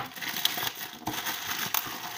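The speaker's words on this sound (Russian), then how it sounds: "Так что вскроем сами и проверим," Crinkling and tearing of a plastic parcel package being opened by hand, with irregular crackles, snaps and rustles close up, no talk.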